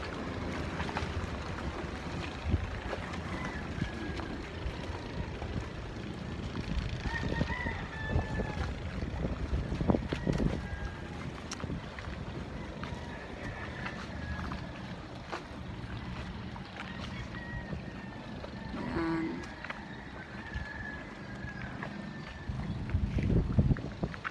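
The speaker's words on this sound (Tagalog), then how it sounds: "Yan po ang mga bangka." Boat engines hum and drone over water beside a dike, with wind buffeting and lapping waves in a busy, steady outdoor scene.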